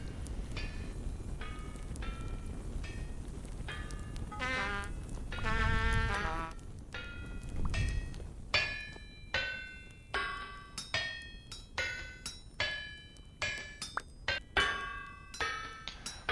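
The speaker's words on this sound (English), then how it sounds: "While this extremely loud hammer is hammering away" A loud hammer in the video game Vintage Story strikes metal repeatedly, ringing clinks in a steady, evenly spaced rhythm, close and sharp, over a low background rumble.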